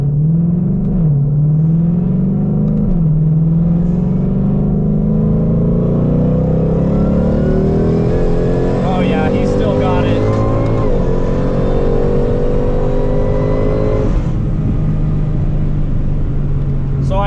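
An 840whp Ford GT500 pulls hard in a roll race, its engine note climbing steadily in pitch with a loud, continuous rumbling roar and a brief drop near the end, while a voice speaks over it.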